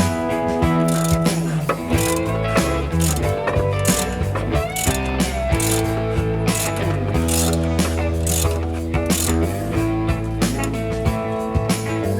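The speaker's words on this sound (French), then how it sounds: "Pour retirer le cache de distribution, il faut retirer la poulie d'accessoires. Une opération réalisable avec un arrache-moyeu," A hub puller working the accessory pulley off a 1977 Chevrolet Caprice engine, with loud rhythmic ratcheting clicks and metallic mechanism noise repeating close up and continuously.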